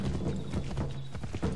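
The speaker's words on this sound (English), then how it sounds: "Hey, I'm just riding my horse." A short burst of quick hoofbeats from a horse being ridden in the Assassin's Creed 3 video game, close and clear with a rapid, even rhythm.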